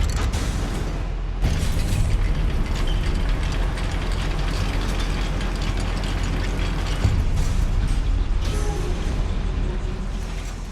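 A goblin mine lift in Hogwarts Legacy grinds and creaks along with a continuous mechanical rumble, punctuated by occasional heavier clunks and rattling, loud and steady throughout.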